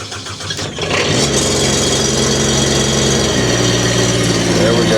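Engine on a piece of Chinese-made equipment at an auction, given extra gas: a few cranking turns, then it catches and settles into a loud, steady mid-pitched running drone with a slight rise in pitch partway.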